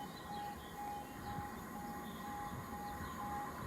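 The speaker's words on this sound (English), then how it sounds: "Now we've got the first train of the day, which is a Great Northern train" A Great Northern passenger train from London King's Cross to King's Lynn arriving at Waterbeach station, a continuous rumbling roar of wheels and motors with a steady high tonal whine running through it.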